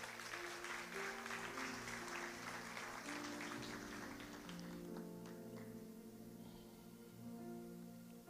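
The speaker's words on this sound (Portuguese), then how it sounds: "Aplauda o Senhor mais uma vez" Church congregation applauding during a Wednesday evening worship service, steady clapping over sustained musical tones, fading somewhat toward the end.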